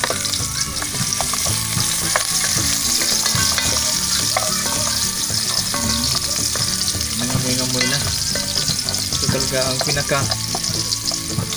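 Garlic frying in hot cooking oil in a Filipino home kitchen, a steady loud sizzle with stirring scrapes throughout, and a voice speaks briefly over it.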